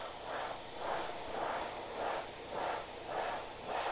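Spray bottle misting water onto a painting in progress, a close airy hiss repeated in regular pulses about every half second, with no voices.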